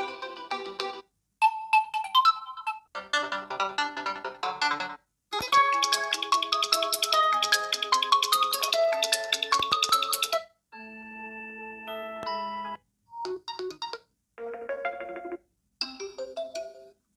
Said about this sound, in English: Different ringtones, built-in alarm.